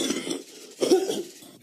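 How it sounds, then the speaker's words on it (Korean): A single adult cough, then a second rougher cough or throat clear, close and fairly loud, with no talk around it. "왜 기침을 이렇게"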